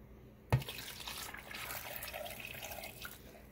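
Canned chicken broth pours into a cooking pot for acorn squash soup, starting with a sudden splash and then settling into a steady, soft liquid trickle with no voices.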